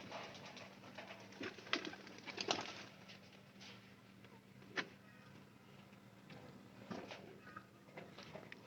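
Pigeons cooing softly inside a pigeon house, a faint low hum broken by scattered coos and a few sharper calls and rustles, all quiet and nearby.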